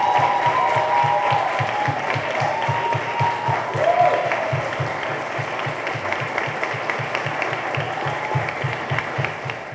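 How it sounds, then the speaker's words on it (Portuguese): A steady round of audience applause for the finalists of a Brazilian debate championship final, sustained clapping at even volume throughout with a low rhythmic thump underneath and faint voices in the hall. "Vamos agradecer com uma salva de palmas os nossos finalistas."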